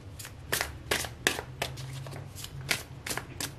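Tarot cards are shuffled by hand in a string of quick riffling, flicking bursts, close up and crisp, with no talk.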